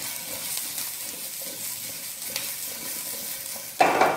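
Garlic crisps in hot oil in a pan with a low, steady sizzle and light stirring scrapes, ending in a sudden louder burst of spitting.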